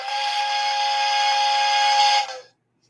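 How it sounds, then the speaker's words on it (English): A loud steam whistle sounds alone as a donation alert, holding one steady shrill tone for over two seconds before cutting off abruptly into silence. "The higher the number, the longer the whistle."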